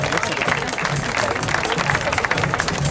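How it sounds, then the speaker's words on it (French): At a youth bouldering competition in L'Argentière, spectators applaud a climber; the clapping is thick and continuous, blended with crowd noise and a speaking voice over a loudspeaker. "Applaudissements pour Marco Gossi"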